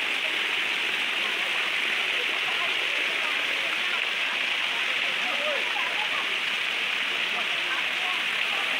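Water gushes steadily from temple water spouts at Muktinath in Mustang, a dense, close rushing splash that continues evenly throughout.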